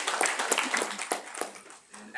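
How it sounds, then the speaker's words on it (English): An audience applauds with brisk, uneven clapping, moderately loud and close, while a voice talks over it. "Please give us a wonderful round of applause"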